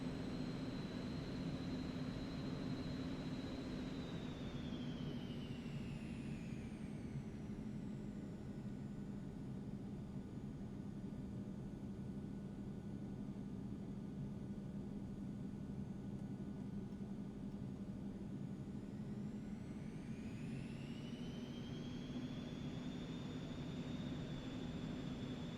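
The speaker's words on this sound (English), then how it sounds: "It astounds me how much power this airplane requires to taxi." Eclipse 550 jet engines taxiing in a flight simulator, a steady loud whine with a broad roar that holds throughout, its high tone falling away midway and then rising again near the end.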